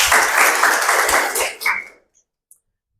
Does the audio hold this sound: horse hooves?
no